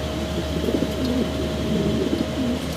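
Big fancy pigeons at a bird market, cooing in low repeated throaty phrases close by over a steady background hum, with no talk.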